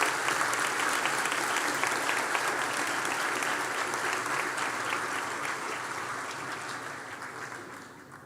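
A graduation-ceremony audience for biokinetics graduates applauds steadily with dense, sustained clapping that fades slightly toward the end, with no talk over it.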